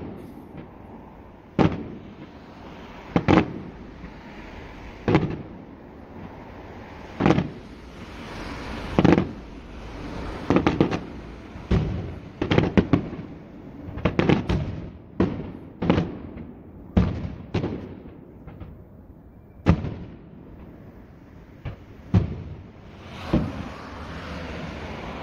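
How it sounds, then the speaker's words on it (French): Fireworks burst repeatedly outdoors, sharp loud bangs scattered irregularly over a low background rumble, some in quick clusters and some spaced several seconds apart. "les feux d'artifice, c'est une des plus belles inventions de l'être humain"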